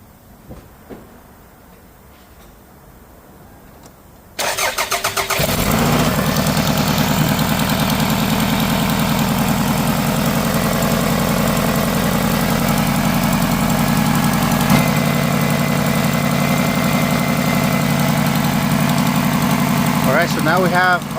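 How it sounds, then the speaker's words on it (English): A car engine cranks and catches after a quiet stretch, then settles into a steady, loud idle with a constant low rumble and faint mechanical ticking, heard close, following a catalytic converter replacement. "So let's start the car and see what we get."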